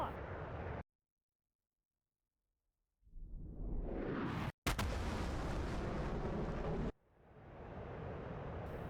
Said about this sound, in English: the bomb dropped, and it hit pretty much where I was aiming